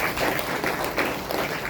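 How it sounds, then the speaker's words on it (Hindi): An audience at a Hindi-language spiritual gathering claps together in a brief burst of dense, even applause, close and fairly loud, with no talking over it. "उनके नाम की तो ताली बजाओ।"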